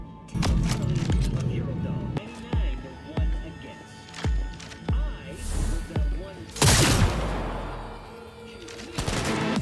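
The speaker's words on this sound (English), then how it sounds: "Heard shots." Gunfire in Cyberpunk 2077 rings out as a series of sharp, loud shots at a steady, spaced rhythm, ending in a louder blast and a noisy rumbling tail.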